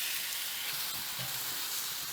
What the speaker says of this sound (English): And we can now lay the steak on.